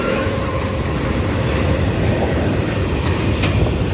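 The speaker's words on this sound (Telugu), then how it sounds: "ఇక్కడ goods train crossing the platform." Goods train passing the platform at Pithapuram railway station, with a loud, continuous rumble and rattle of wagons close by and a faint high squeal of wheels.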